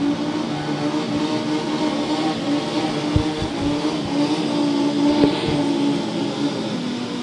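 Constant loud engine drone of FIM Super Street Bike drag racing motorcycles at a qualifying session, heard at a distance with a steady pitched roar and a couple of brief sharp knocks.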